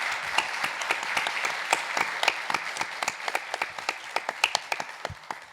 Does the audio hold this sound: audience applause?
yes